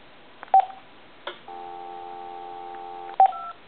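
Keypad tones from an AT&T SL82418 cordless telephone handset: a few short dialing beeps with a steady sustained tone between them, clear and moderately quiet against a silent background, no talk.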